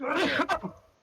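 A single sharp sneeze bursts out mid-clip, close and loud, briefly breaking up ongoing nearby chatter before the voices fade.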